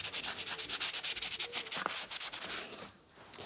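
Soft scrubber rubbing across the face of a vintage 1960s doll during restoration, a close, steady run of short scratchy strokes in quick rhythm that briefly pauses near the end.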